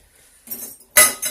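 Brief clinks of a utensil against a bowl while stirring a marinade for pork belly ribs, a soft scrape followed by two sharp close metallic knocks.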